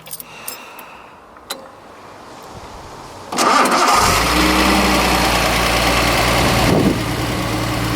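A Datsun 280ZX engine cranks and catches after a few quiet clicks and a faint key jangle, then settles into a steady, close idle with a brief change in tone late on.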